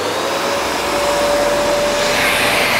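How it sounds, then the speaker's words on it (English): A Bosch Professional GDE 162 dust extraction vacuum runs steadily and loudly with a continuous whooshing roar and a faint whine, set up for core bit drilling into a wall. "Got a massive, massive Hoover here. This thing sucks like anything."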